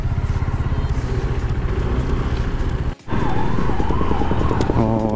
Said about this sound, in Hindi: और एक एम्बुलेंस यहाँ